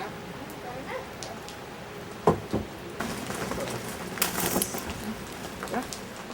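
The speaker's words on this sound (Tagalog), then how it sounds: "Inabot ko tuloy tayo ng ulan." Rain falls steadily on surfaces outdoors, a soft continuous patter with a few sharper drip bursts and faint background bird sounds.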